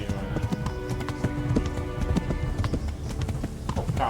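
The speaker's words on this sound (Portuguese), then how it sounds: "o cavalo tá correndo bem, mano" Hooves of a horse galloping in the medieval game Kingdom Come: Deliverance clop in a rapid, steady rhythm, loud and close, over continuous ambient game sound.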